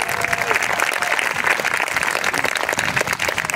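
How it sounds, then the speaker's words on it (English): Audience at an Eighth of May Emancipation Celebration applauding students from the community: dense, sustained clapping from a sizable crowd, loud and steady throughout. "give them a big round of applause for this"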